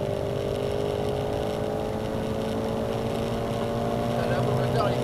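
A Shelby GT350 engine droning steadily with a rising, straining tone as it picks up speed on the Magny-Cours circuit, heard from inside the car.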